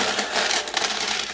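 Coins poured out of a savings tin, a continuous bright metallic clatter and jingle of many coins tumbling out together, close and fairly loud.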